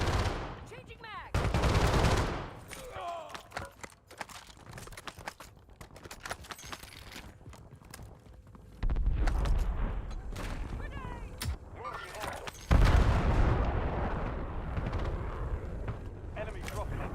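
Gunfire in a video game shooter, bursts of shots fired in several separate clusters with fainter shots between, heard under a voice talking throughout.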